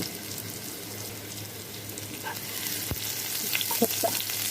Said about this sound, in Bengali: প্রথমে সরিষার তেলে পেঁয়াজ দিয়েছি এবং কয়েকটা কাঁচা মরিচ।